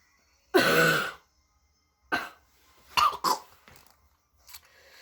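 Several harsh coughs close by: one long hacking cough, then a shorter one and a quick double cough, followed by faint throat clearing.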